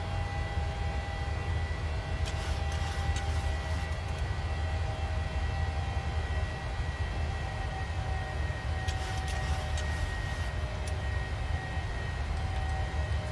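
Airliner engines at climb power in a PMDG aircraft in Microsoft Flight Simulator, a steady, continuous low roar with a faint whine layered on top, constant in level throughout, heard without talking.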